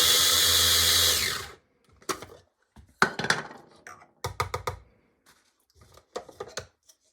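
A food processor grinds wild ramp leaves for ramp butter, a loud steady whir for about a second and a half, then stops, followed by scattered clunks and rattles as the bowl and leaves are handled.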